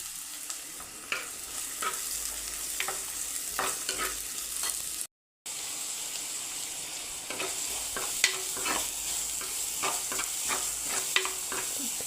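Onion and ginger sauté in a pan for a dried prawn curry, with a steady frying sizzle and scattered clicks and scrapes of stirring, and one brief silent gap partway through.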